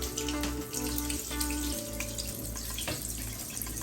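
Water runs steadily out of a saltwater aquarium tank as about 90% is drained during maintenance, a continuous close gush with no talk.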